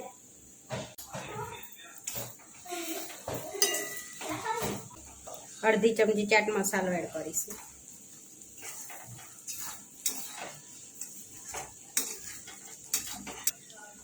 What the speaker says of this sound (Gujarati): હવે મમરા એડ કરી દઈશું, હલાવી લઈશું।